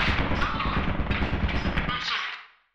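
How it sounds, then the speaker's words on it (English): Turret in the video game Lethal Company firing a rapid, dense burst of shots, loud and close, cutting off abruptly near the end. "There's a turret there."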